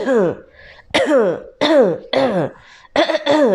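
A person repeatedly clears their throat in a series of rough, voiced bursts with short pauses between, close and fairly loud.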